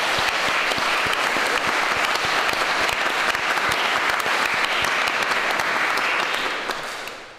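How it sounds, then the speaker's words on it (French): Sustained, dense applause from a conference audience at the opening of a small museum's second edition, loud and even throughout before tapering off in the final second. "on peut leur donner une bonne main d'applaudissement"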